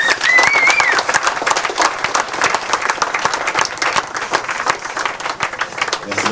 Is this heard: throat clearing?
no